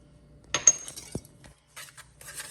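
A utensil stirs flour, cornmeal and baking soda together in a bowl, giving a few soft scrapes and light metallic clinks in an otherwise quiet room.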